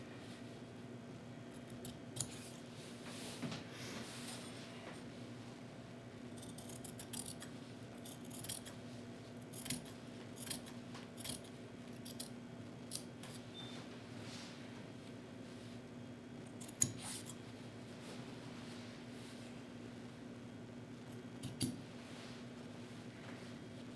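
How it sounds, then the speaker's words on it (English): Scissors cutting fabric while sewing infant vestments, a series of quiet, separate snips spaced a few seconds apart in a hushed room. "I can cut this off the bottom."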